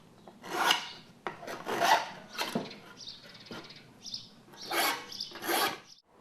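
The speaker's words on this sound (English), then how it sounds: "then file to your line on all sides" A hand file rasping metal down to a marked line, several distinct back-and-forth strokes in uneven rhythm, close and clear with no talking.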